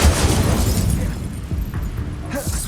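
A magical Expulso blast in Hogwarts Legacy bursts loudly at the start and rumbles down over a couple of seconds, followed by a quieter crackle and a small whooshing flare near the end.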